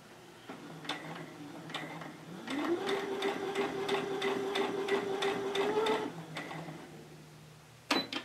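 A home sewing machine stitches a cloth doll in a fast, even run of mechanical ticks that rises and holds, then stops with the needle down, followed by a sharp clack near the end.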